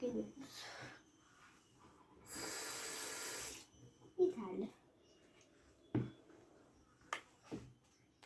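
Water poured briefly into a mixture while preparing a TikTok trick, a short hissing splash in the middle of the clip, with a voice and small clatters around it.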